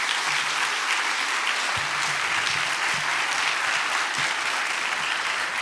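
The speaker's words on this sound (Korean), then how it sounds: "우리 김성준 선교사님 나오실 때 우리 사랑의 박수로 환영하시겠습니다." A church audience applauds to welcome a missionary to the front, a steady wash of clapping from a sizable crowd that lasts throughout.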